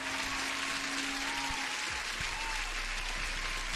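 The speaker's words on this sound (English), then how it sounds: "Huge applause for Methodical Man." Applause for a guest on a live trading stream, an even, continuous wash of clapping at moderate level throughout, with no voices.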